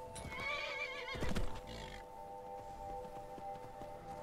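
A reindeer mount in Skyrim Anniversary Edition whinnies loudly and neighs like a horse, a high wavering call that breaks off, followed by a steady electronic hum with faint clopping.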